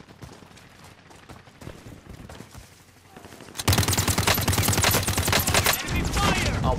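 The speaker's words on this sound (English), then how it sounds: "Enemy fire!" Dense rapid gunfire in the Call of Duty Warzone video game starts abruptly as loud, sustained bursts after quieter footsteps and movement, with a short pause before the firing resumes.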